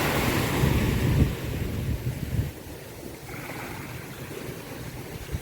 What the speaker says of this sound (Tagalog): Ang lakas ng alon, ha?